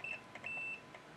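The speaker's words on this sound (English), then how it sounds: "Beeps in the middle." A multimeter beeps while its probes test MOSFETs on a BMW MSD80 DME engine control board. There is a short beep, then a longer steady high tone, faint and close, with no talk.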